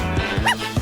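A small dog, one that owns lots of clothes, gives a few short, sharp yips and barks up close, quick and high-pitched, with a brief whimpering note between them.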